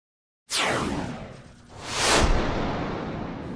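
A LEGO armored personnel carrier fires its missiles: two loud swooshing launch sounds, the first sweeping down and fading, the second surging up stronger, with no talk.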